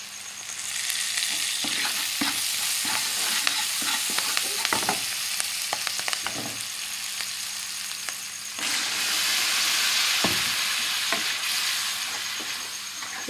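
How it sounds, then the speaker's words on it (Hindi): A desi tadka sizzles and is stirred into a white chickpea curry, with loud, steady frying hiss, spatula clinks and scrapes throughout, and a surge of stronger sizzling partway through. "सफ़ेद छोला देसी तड़का"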